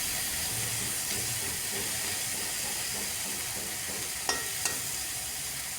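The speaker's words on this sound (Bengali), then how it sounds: "তাই অল্প তেল দিয়ে বেগুনগুলো ভাজছি।" Eggplant pieces fry in a little oil in a pan, giving a steady soft sizzling hiss throughout with a couple of brief sharper pops near the end; no voices.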